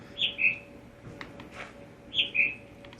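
Bird call in the puzzle game The Witness, jungle area: two clear, fairly close chirping calls, each a quick pair of bright tweets, about two seconds apart over a faint ambient hum.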